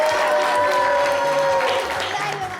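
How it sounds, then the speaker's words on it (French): A studio audience at a French midday show claps steadily in dense, continuous applause, loud and close, with a faint sustained tone running underneath. "applaudissez-la fort"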